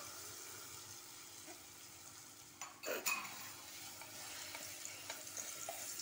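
Fig and date paste roasting in ghee in a pan gives a faint, steady sizzle, with a brief scrape and clatter of a spoon stirring partway through, and no talk.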